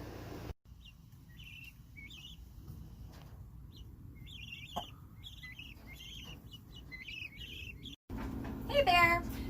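Five-week-old guinea keets being transferred on a farm, chirping in short repeated high tweets over a low rustling background, with a louder burst of calls and handling noise at the end.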